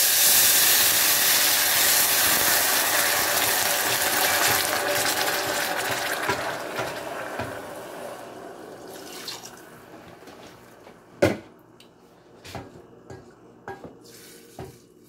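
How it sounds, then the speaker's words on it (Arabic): Roughly 300 ml of water poured into a cooking pot for a shrimp and noodle kabsa, a steady close rush of filling that fades after several seconds, followed by a few scattered clinks of utensils against the pot. "We add the water now, and the water amount is around 300 milliliters"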